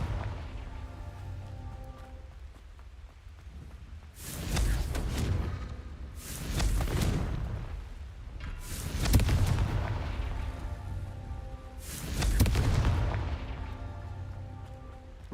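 Repeated Confringo fire spell blasts in Hogwarts Legacy, four loud booming bursts about two seconds apart, each with a rumbling tail, over a steady game background hum.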